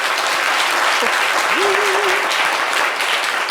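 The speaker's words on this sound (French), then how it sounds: "Applaudissez Patrice, s'il vous plaît" A radio show studio audience applauds a caller, dense steady clapping, loud and close throughout, with a brief voice or whoop rising above it.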